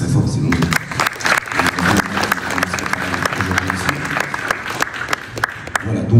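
Audience at a boxing press conference applauding, a sustained crowd clapping with sharp individual claps over several seconds, voices murmuring underneath.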